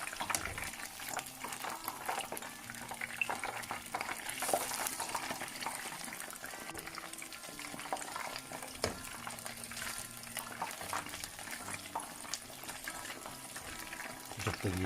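Fish and chips frying in hot oil: a steady, fairly quiet bubbling sizzle with fine crackling pops that continues evenly throughout, with no one talking.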